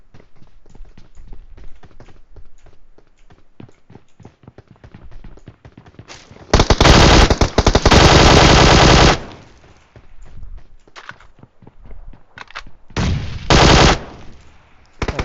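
Loud automatic gunfire from the video game PUBG Mobile, with scattered shots and footsteps early, then a long sustained burst and a second shorter burst near the end, with no talking.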